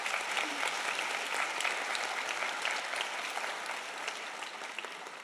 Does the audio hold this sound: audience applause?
yes